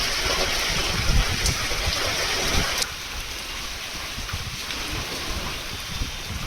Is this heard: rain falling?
yes